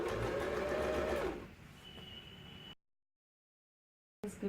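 A sewing machine stitches slowly over a bulky spot near the handle of a fabric potli bag, running in a steady whir for about a second before it slows, stops and falls silent.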